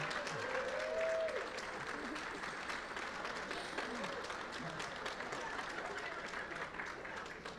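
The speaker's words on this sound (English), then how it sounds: "I'm going to give you an opportunity, guys, to applaud all the women that are in this room" Audience in a room at an awards event honoring women breaks into sustained, dense applause with a few whoops and cheers, steady and loud throughout.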